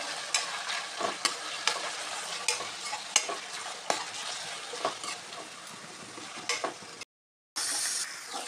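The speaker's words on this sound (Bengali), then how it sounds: "এবার আমি এখানে ডালবো 2 চামচ আদা রসুনের পেস্ট। 1 মিনিটের জন্য আমি এটাকে কষিয়ে নেব।" Onion and ginger garlic paste being fried in a pan for a chicken curry, a soft continuous sizzle with regular spatula scrapes and light clinks against the pan, a brief dropout near the end.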